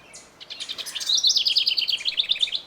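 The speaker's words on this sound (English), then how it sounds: "You can hear the birds behind me. We have birdhouses set up," Small birds chirp and tweet in quick, overlapping bursts around backyard birdhouses, growing busier after the first second, with a light outdoor hush underneath.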